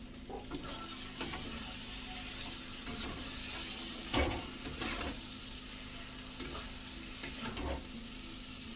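Masala being stir-fried in oil in a pan, a continuous close sizzle with intermittent sharper scrapes and clatters of a spoon against the pan, no speech.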